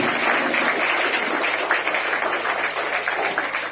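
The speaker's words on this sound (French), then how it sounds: "On doit applaudir l'Esprit de Dieu dans la vie pour nous." A congregation applauding during a worship service, dense continuous clapping filling the space at a steady, fairly loud level without a break.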